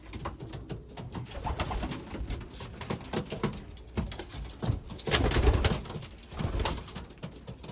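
Young racing pigeons coo in a loft with middle distance hens, soft murmuring coos and wing shuffles repeating irregularly, close and moderately loud with no talk.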